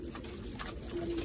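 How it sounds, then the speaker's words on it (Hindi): A pigeon in a breeding setup gives a single soft coo that sounds faint against low background noise. "तो भाई ये कबूतर आ गए हमारे अंदर"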